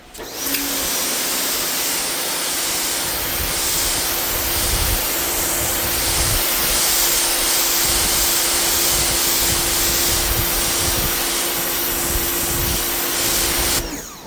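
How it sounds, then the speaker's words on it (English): A budget PATOOLIO electric pressure washer fitted with a 15 degree nozzle blasts concrete, a loud continuous close hiss and motor whine holding steady for the whole stretch with no voices. "The 15 degree is what I use because the 0 degree was cleaning off the concrete a bit."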